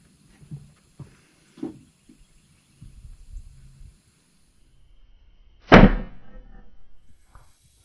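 An arrow is released from a bow fitted with a Burris Oracle X sight and hits the target with one sharp, loud thwack. Faint handling clicks come before it, and a short fading rumble follows.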